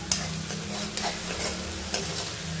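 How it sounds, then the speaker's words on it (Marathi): Onions for zunka, a Maharashtrian gram-flour dish, sizzle steadily in hot oil while a spoon stirs and scrapes the pan with a few sharp clinks. The sound is close and continuous, with no talking. "परतून घ्यायचं आपल्याला कंटिन्युअसली, खूप छान लागतो।"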